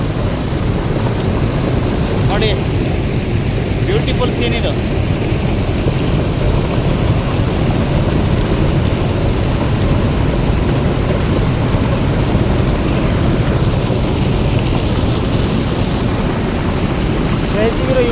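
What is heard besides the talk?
water falling from a dam channel at Marikanive dam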